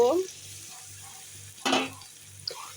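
Chicken curry sizzling and being stirred in a pan, a low steady frying hiss broken by a short scraping stir burst midway and a small clink near the end.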